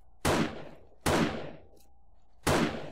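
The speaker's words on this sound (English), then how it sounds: "One shot to the head from the sniper rifle" Three loud sniper rifle shots ring out in 7 Days To Die, each a sharp crack with a decaying tail. The first two come about a second apart and the last follows after a longer pause.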